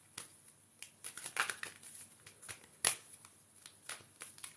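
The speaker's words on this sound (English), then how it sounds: "stop shuffling" A deck of tarot cards being shuffled by hand, soft riffling and slapping in irregular bursts with sharper snaps, close and quiet with no talking.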